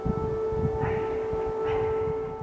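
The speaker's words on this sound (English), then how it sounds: "Air raid sirens sounded in Kyiv after those ceasefire talks." Air raid sirens wail across Kyiv as a steady, sustained tone that rises slightly in the middle, with low rumbling background noise underneath and no talk.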